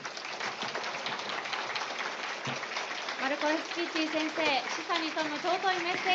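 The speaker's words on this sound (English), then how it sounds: "Let us give another big round of applause to our speaker" Audience applause after a keynote speech at a Tokyo conference, a steady broadband wash of clapping filling the room, with voices rising over it in the second half.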